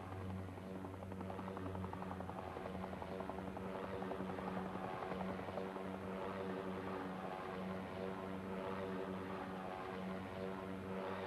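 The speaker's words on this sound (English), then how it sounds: "This is a plane right out of Australian folklore, the Nomad, designed and built in Australia." A Nomad aircraft, an Australian-designed and -built twin-propeller plane, flies past at an air show with a steady, droning propeller and engine hum at a moderate distance, holding constant throughout.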